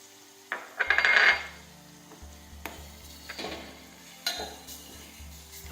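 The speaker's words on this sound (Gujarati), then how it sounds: "થોડી વાર આ રીતે આપણે સાતળી લઈશું. હવે આપણે આદુ નાખી દઈશું." Ginger goes into a pan with garlic for Schezwan chutney, setting off a brief loud sizzle followed by quieter stirring scrapes and clinks of a utensil against the pan.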